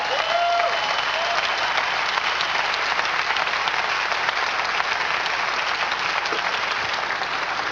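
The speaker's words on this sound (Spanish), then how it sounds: "¿Quiere darle un aplauso al Señor?" A church congregation applauds, a loud, dense and sustained roar of clapping hands that stays even from start to finish, with no voices standing out.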